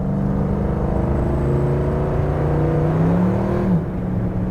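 A 1972 Ford Maverick accelerates hard, its engine note climbing steadily and loudly up close. Near the end the pitch drops sharply as the automatic transmission slides into third gear, then it settles at a lower drone.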